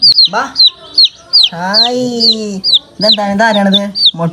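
A white hen or chick clucks indoors in short repeated bursts, close and fairly loud, with chirpy calls between, while people talk over it.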